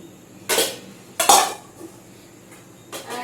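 Two loud metallic clanks as heavy kadai pans, one medium-sized, are set down or knocked together, a softer knock near the end, quiet between them.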